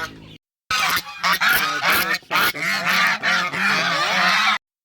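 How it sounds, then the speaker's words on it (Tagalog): Geese honking loudly at close range during feeding time on a farm, a rapid overlapping chorus of harsh calls in bursts after a short silence. "Now let's proceed to the goose area."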